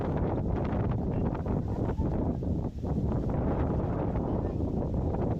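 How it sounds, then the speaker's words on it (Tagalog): Steady, loud wind buffeting the microphone, a continuous rough roar with brief dips, no voices. "Ang hangin, no?"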